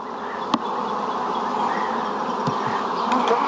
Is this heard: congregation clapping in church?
no